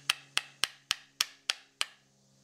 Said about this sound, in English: I usually take the end of the screwdriver and just lightly tap it